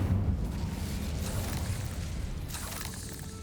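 The Incendio fire spell bursts in Hogwarts Legacy, a loud, dense, roaring blast of flame that rumbles steadily, with a brief crackling flare near the end and no voices.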